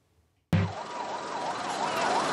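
An emergency service vehicle's siren arriving at a car crash scene starts abruptly and wails in a steady, loud rising-and-falling pattern.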